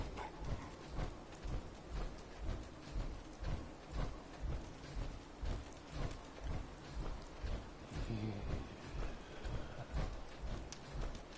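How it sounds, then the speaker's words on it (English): Steady rain pours down with occasional low thunder rumbles in the video game Fallout 4, a constant wash of falling water across the whole stretch with no voices. "It's raining."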